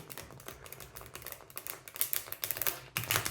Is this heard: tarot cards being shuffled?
yes